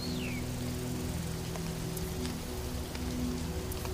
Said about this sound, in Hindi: वो बारिश से बचने के लिए अमानी के बदन को ढाल की तरह इस्तेमाल कर रहे हैं